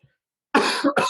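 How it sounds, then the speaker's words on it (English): A couple of sharp, close coughs follow a brief silence, loud and abrupt. "Sorry, coughing again."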